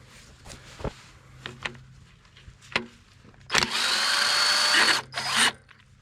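Snap-on impact gun spinning out rusty bell housing bolts on a 1991 Ford F150, a few sharp clanks and taps, then a loud close hammering whir for about a second and a half and a shorter second burst.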